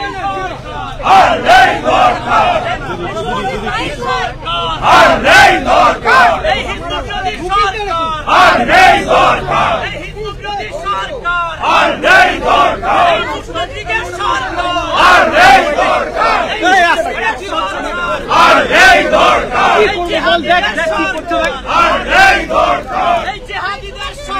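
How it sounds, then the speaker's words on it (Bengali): Rival TMC and BJP legislators chanting slogans against each other inside the West Bengal Assembly, with loud rhythmic bursts of massed voices repeating again and again over a continuous crowd roar. "বিধানসভায় তৃণমূল এবং বিজেপির মধ্যে স্লোগান যুদ্ধ"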